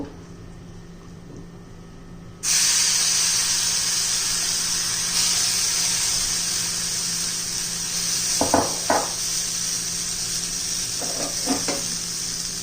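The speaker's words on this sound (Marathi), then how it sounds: "पुन्हा आता आपण थोडंसं तेल घालून घेऊया त्यात बॅटर घालून घेऊ" Moong dal batter poured into a pan with a little oil bursts into a loud, steady sizzle that holds close and continuous, with a few faint clinks of a utensil against the pan.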